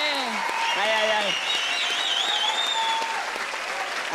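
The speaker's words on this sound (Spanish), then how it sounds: "Un aplauso para ella." Studio audience on a Spanish-language talk show applauding steadily, with voices talking and exclaiming loudly over the clapping throughout.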